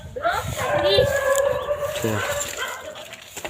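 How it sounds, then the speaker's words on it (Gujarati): A female dog whines and yelps in a series of high, wavering cries close by in a Gujarat village, with people talking over it. "ભાઈ કૂતરી હોતી છે"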